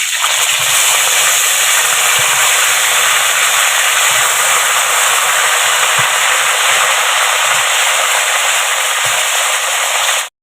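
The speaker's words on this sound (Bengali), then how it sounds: "তেলটা দিয়ে দিয়েছি কাঁকড়াগুলো ভেজে নেব গরম হয়ে গেছে কাঁকড়াগুলো ভেজে নেবো" Crabs frying in hot oil give a loud, steady, close sizzle and crackle that hisses without pause for about ten seconds, then cuts off abruptly; no voices.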